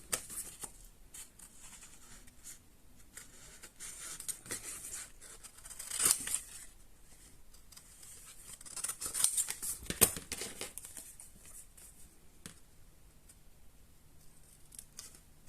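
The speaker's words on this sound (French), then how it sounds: "Voilà, on découpe." Scissors snip around a stamped paper card, faint close cuts and paper rustles coming in irregular bursts over a quiet background.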